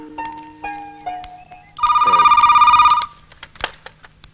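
A telephone rings once in a quiet room, a single loud warbling burst about a second long, with a few soft knocks and taps before and after it.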